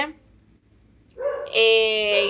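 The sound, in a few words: dog barking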